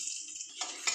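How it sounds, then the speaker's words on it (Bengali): Dried red chili and nigella seeds dropped into hot oil for tempering, with a steady close sizzle that swells in bursts toward the end. "আমি শুকনো লঙ্কা ফোড়ন দিয়ে দিলাম"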